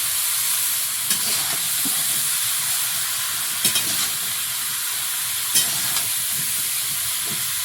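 Vegetables sizzle steadily in a hot pan as they are stirred, a constant bright hiss with occasional soft scrapes and clinks of the spatula, close up and without talk.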